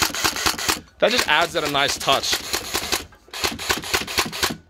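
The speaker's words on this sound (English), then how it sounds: "There we go, single fire. And as you can see, it has that slight blowback." A CZ805A1 gel blaster fires single shots with slight blowback, giving a string of sharp, evenly spaced mechanical clicks close to the mic, continuing under someone speaking.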